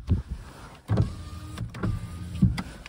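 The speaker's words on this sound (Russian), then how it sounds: "4 электростеклоподъемника. Все 4 работают отлично." Electric power windows in a Ravon R2 car run up and down several times, each cycle starting with a low motor whir and clunk, close inside the cabin with no talking.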